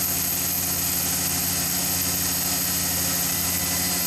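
Machine cutting knife handle material with coolant during a copper inlay job, giving a steady, droning mechanical hum with a constant whine and no pauses.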